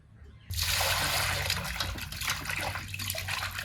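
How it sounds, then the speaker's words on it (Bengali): Washed goat mutton pieces are lifted out of a pot of water, giving a loud, continuous wet splashing and trickling that starts abruptly and runs steadily to the end. "এখন জল থেকে ছেঁকে ছেঁকে তুলি"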